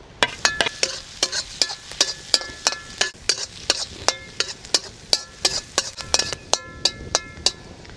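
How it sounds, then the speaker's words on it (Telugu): Finely chopped green chilies frying for veg manchurian at an outdoor village cooking spot, a steady sizzle under a quick, regular run of metal spoon scrapes and clanks against the pan. "ఇలా పచ్చివాసన పోయే వరకు వేపుకోవాలండి"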